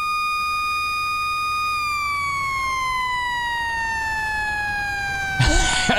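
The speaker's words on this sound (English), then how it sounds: "All right, we got our siren going." A fire truck siren wails in a firefighting video game, a loud steady electronic tone slowly falling in pitch, ending with a sudden burst of noise.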